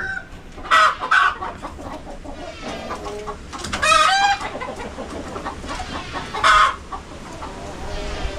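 Farm chickens in a free-range yard, with hens clucking steadily nearby and a rooster letting out several loud crows in bursts over the background flock.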